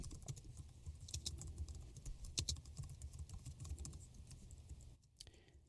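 Rapid, uneven clatter of keys on a computer keyboard, close by, with a brief pause near the end before a few more taps.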